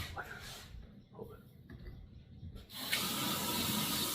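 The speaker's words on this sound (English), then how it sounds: "I love this faucet set." Water runs from a kitchen faucet into the sink, starting and stopping a few times before a steady gushing stream flows near and fairly loud, with no talking.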